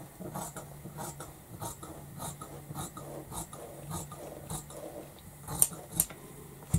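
Scissors cut straight across a strip of folded fabric with a series of crisp snips and sliding crunches, close up and fairly quiet, with a couple of sharper clicks near the end.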